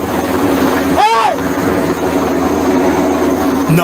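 A Chinese Navy helicopter hovers low over a group of people at Sandy Cay near Pag-asa Island, its steady loud rotor roar and wind blast filling the clip while a voice shouts briefly.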